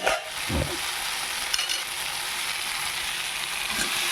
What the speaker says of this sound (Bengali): এর মধ্যে আমি আলু আর ওলকপি যেটা ভেজে রেখেছিলাম সেটা দিয়ে দিচ্ছি